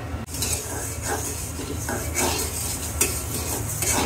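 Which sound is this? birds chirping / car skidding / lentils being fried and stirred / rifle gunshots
lentils being fried and stirred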